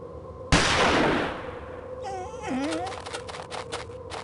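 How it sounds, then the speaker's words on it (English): A single loud gunshot in a video game cracks out and rings into a fading tail, followed by a wolf's yowling cry and scattered clatter. "The gunshot seems to have frightened him off."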